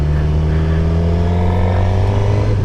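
A motorcycle engine during a beginner's riding lesson, droning steadily and loudly up close with low harmonic lines that shift slightly as the bike gathers speed, under continuous wind and road rush.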